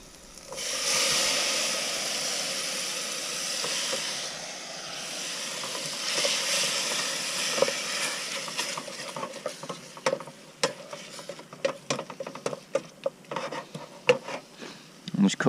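Mushrooms frying in a pan in a van kitchen give a steady close sizzle and hiss, with scraping stir strokes that grow sharper and more clattery toward the end.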